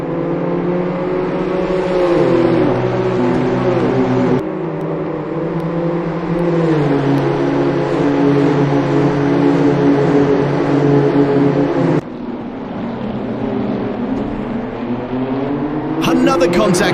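BMW M2 CS race cars drag racing side by side toward turn 1, their engines droning loudly as they accelerate and shift up through the gears, with a commentator talking over the steady engine roar.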